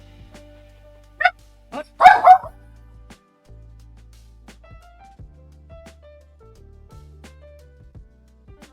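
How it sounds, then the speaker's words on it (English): A pet dog barks indoors after a doorbell, several sharp yaps clustered together, loud and close, with a brief spoken word and quiet room noise around them. "let me just calm down my dog. Someone decided to knock on my doorbell."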